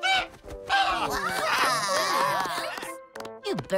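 A cartoon character's voice imitates a Canada goose call, a loud strained honking wail that wavers for about three seconds and ends in a couple of short squawks.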